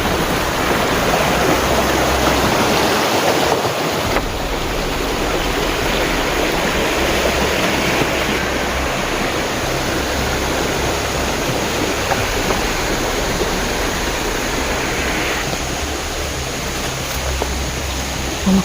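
River water flowing steadily at a crossing point along an outdoor trail, a broad continuous rushing wash that stays close and fairly loud throughout, with no talking heard.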